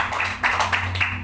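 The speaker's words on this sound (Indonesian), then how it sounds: "Tepuk tangan buat Tuhan." Church congregation clapping during a worship service at GSJA Jemaat Smirna Mangga Besar, a dense wash of applause from many hands over a steady low hum, brief and moderately loud.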